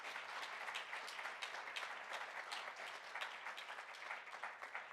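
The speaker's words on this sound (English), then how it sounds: "If we can give them a round of applause" Steady applause from an audience at a Sunday devotional program, many hands clapping in a dense, even wash that holds for several seconds at a fairly quiet level, with no voices heard.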